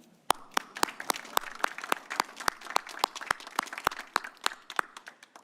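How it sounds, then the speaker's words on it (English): Scattered, sparse hand claps from a small group at an awards ceremony honoring Gold and Silver Circle recipients, sharp separate claps in an irregular rhythm, fairly faint and without voices. "ask the other Gold and Silver Circle honorees to applaud all of you for being of support to all of us"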